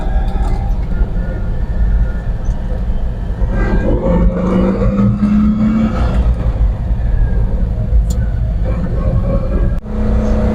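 A 1967 Citroën Dyane 425 Confort's small engine revs up loudly and accelerates away, the motor pitch climbing steadily as it pulls off, heard close from inside.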